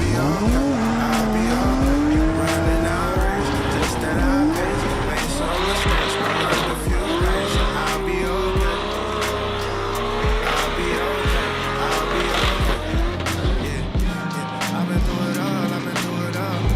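A race car during RDS drift-series qualifying in Moscow, engine revving hard with sustained tire squeal and skidding, loud and close throughout, engine pitch rising and falling as the car slides.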